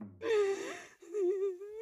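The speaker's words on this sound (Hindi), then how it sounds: "धीरे धीरे घर में किसी के रोने की आवाज गूंजने लगी।" Eerie, ghostly crying in a Hindi horror cartoon about a witch at midnight in a house: two drawn-out wavering wails, loud and close, with no talk.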